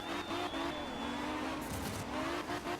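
A rally car in the video game Art of Rally drives hard with a loud, continuous engine drone, revving and sliding with tire squeal and skidding noise, close and steady throughout, with no talk.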